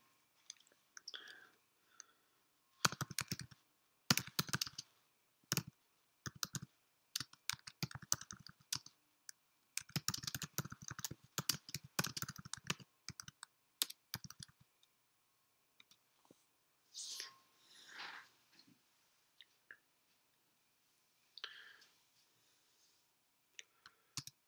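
Typing on a computer keyboard, heard as bursts of quick, sharp key clicks separated by short pauses. The keys are close and fairly quiet, and the room around them is otherwise silent.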